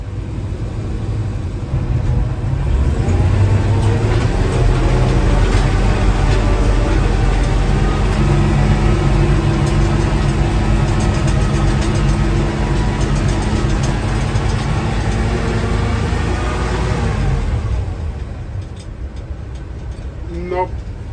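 A vehicle engine revs steadily and loudly while climbing a snowy hill, a sustained drone lasting most of the span before easing off near the end.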